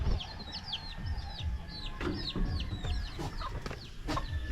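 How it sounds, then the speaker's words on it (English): Chickens clucking and chirping close by on a goat farm in Cebu, Philippines, a busy overlapping chatter of short calls with light rustling underneath and no talking. "And then we got our chickens over here."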